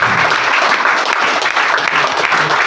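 Dense, steady applause from an audience at a home meeting, with many hands clapping continuously at close range and no clear speech on top.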